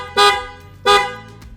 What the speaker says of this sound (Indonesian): Ini klakson gue ganti yang modelan Pia mereknya.